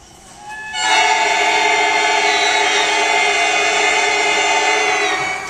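A loud, sustained chord of many reedy tones from a middle school band's woodwind mouthpieces played together without instruments, entering after a brief quiet start and buzzing steadily like a dial tone.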